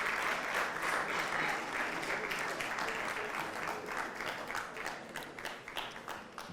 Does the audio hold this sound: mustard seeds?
no